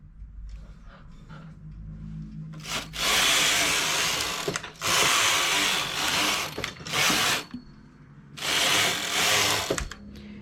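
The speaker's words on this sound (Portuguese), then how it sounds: "Para colocar os pontos na máquina e fazer o acabamento de barra embaixo" Domestic sewing machine stitching a double hem on fabric, running in three loud whirring bursts of a couple of seconds each, separated by quiet pauses with faint handling noise.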